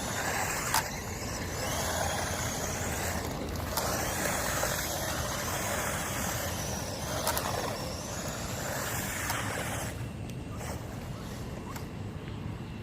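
A GPTOYS S926 1:12 scale 4x4 RC truck drifting outdoors, giving a steady whining electric motor buzz with rough tire and ground noise that barely changes over the stretch, then drops a little at the end.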